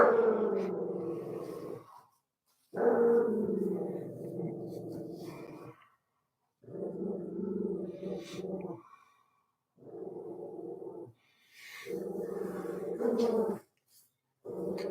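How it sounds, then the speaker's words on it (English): A pet dog growls in long, low rumbling bursts separated by brief silences, close and steady across the stretch, with no talking over it. "That growling is my dog, by the way."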